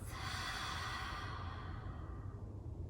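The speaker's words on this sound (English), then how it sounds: "Breathing in through the nose, exhale out through your mouth" A slow, deep breath drawn in through the nose and released through the mouth during a grounding yoga meditation, soft and close with no talking.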